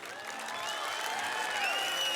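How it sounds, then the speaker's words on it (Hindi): Audience applause fills a hall at a literature festival in Quetta, a steady dense wash of clapping mixed with some crowd noise and whistles, rising slightly toward the end. "अभी भी तालियां कम है आपकी।"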